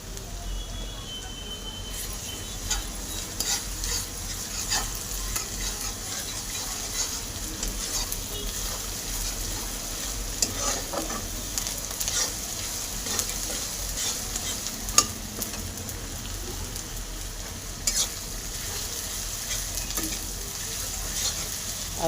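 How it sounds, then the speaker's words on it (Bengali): Ginger garlic paste with curry leaves frying in a pan for a fish curry gives a steady, close sizzle throughout, with occasional scraping clicks as it is stirred and no talk. "আদা রসুন ভাজা ভাজা হয়ে গেছে।"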